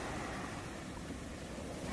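Sea waves break and wash steadily onto a beach in Alanya, a continuous rushing surf with some wind noise and no voices.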